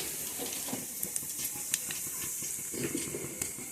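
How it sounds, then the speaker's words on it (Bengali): A steady, soft hiss of nigella seeds sizzling in hot oil left from frying fish, with faint crackles popping up throughout and no voices. "মাছ ভাজা তেলের মধ্যে এবার কালো জিরে অল্প ফোড়নে দিয়ে দিলাম"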